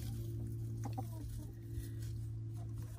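Silkie chickens cluck softly at intervals over a constant low hum during morning chores, several short clucks scattered through the clip with no talking.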